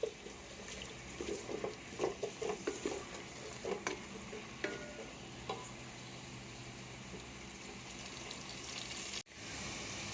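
Onions browning in a pan for a home-style aloo matar methi dish, a steady close sizzle with bursts of stirring scrapes in the first half, settling into even frying hiss, no talking.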